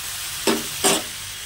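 Spice paste with ginger and cumin being fried and stirred in a pan: a low constant sizzle with two short scraping strokes of the spoon, close by.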